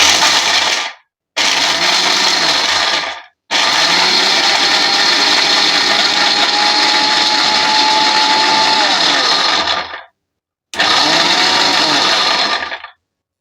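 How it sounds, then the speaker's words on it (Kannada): A kitchen mixer grinder coarsely powdering an ingredient for falooda runs in several loud, close bursts with short stops between them, its steady whirring motor dominating throughout. "ನಾನು ಮಿಕ್ಸಿಗೆ ಹಾಕಿ ಪುಡಿ ಮಾಡಿ ಹಾಕ್ತಾಯಿದ್ದೀನಿ"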